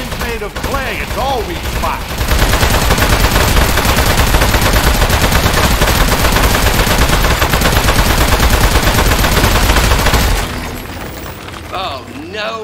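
Rapid, sustained turret gunfire in a video game blasts nearly continuously for about eight seconds, loud and dense, with voices talking briefly before and after the burst.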